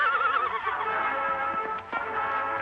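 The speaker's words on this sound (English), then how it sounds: "Later, at the entrance to this valley, the Lone Ranger and Tonto hear sounds of a furious battle." A horse whinnies loudly in a wavering, high neigh during a fight with a buffalo, followed by scuffling thumps and hoof sounds under a continuous wash of noise.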